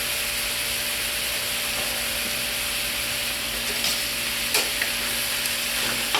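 Ground pork fries in a pan with a steady, close, unbroken sizzle and a constant hiss under a low background hum, with a few faint ticks from a utensil near the end and no talk.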